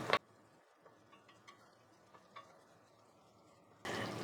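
Tomato masala with garam masala being stirred and sautéed in oil for a chicken curry, with quiet scraping and ticking stirs over a faint sizzle and a louder burst at the end.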